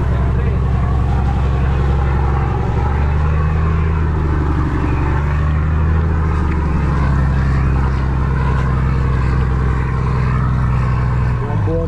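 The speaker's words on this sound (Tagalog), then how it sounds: "Buong tunog ng ating tambutso" A boat's engine and exhaust running out on the Pacific Ocean, a loud, steady low droning rumble with a deep throb that holds throughout, with a brief rise in pitch near the end.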